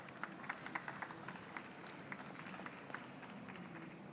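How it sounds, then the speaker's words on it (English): Sparse, modest applause from a conference audience greets a speaker at an aerospace industry panel, scattered claps over a low murmur of room noise and shuffling. "Round of applause, please."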